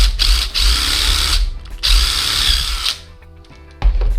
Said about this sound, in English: just attach a drill bit to your drill and just try to guess the drill to the size of the wooden dowel